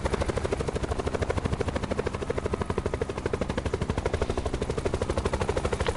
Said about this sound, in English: Flying around in a helicopter.